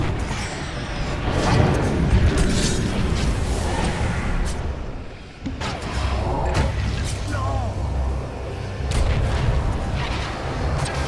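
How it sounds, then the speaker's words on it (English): Tower assault in Dota 2 Alchemist gameplay, with dense, repeated booms, slams and crashing impacts layered over a continuous battle din that stays loud throughout, with a brief dip midway and overlapping voices. "Radiant's top tower is under attack"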